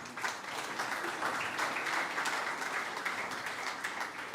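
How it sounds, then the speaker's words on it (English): A round of applause from the audience at a technical discussion event after a floral bouquet is presented to a guest. Even, continuous clapping from a crowd holds steady throughout at a moderate distance. "Can we have a round of applause for sir,"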